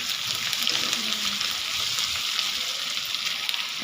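Carrots sizzle steadily in a pan with lightly browned onions, part of a home-style chili paneer, a continuous close, moderate frying hiss with no pauses.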